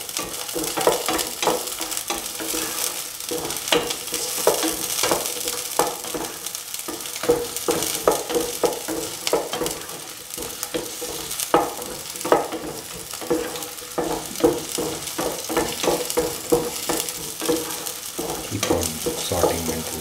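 Garlic and green chili fry in a pan for a Kerala dry prawn and green mango stew, a steady dense sizzle broken by frequent clatters of stirring, close and loud throughout.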